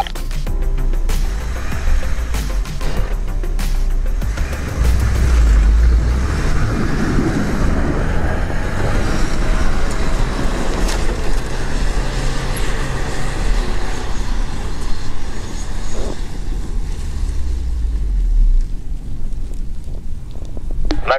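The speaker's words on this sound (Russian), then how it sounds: "попробуем заехать на горочку, на первой повышенной" A Lada Niva 4x4 climbs a snowy hill in high-range first gear, differential unlocked, its engine a steady, loud drone under constant rumble and wind buffeting for the whole stretch.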